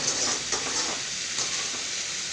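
Carrot and cabbage sautéing in a home kitchen pan give a faint, steady sizzling hiss with a few soft stirring scrapes.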